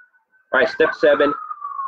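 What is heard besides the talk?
sirens in the background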